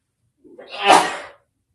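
A single sharp, loud sneeze, close up, with a brief inhale before it and silence around it.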